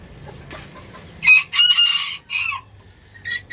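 Several chickens cluck and squawk in short, loud bursts, close by, with quieter shuffling noises in between.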